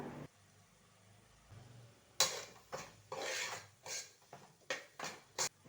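A spoon stirs chili, coriander, turmeric and garam masala together in a pan, producing a quiet series of irregular scraping knocks and clinks against the metal.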